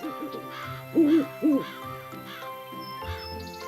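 An owl in a cartoon gives a few distinct hoots over a background music bed, with two louder hoots in the middle.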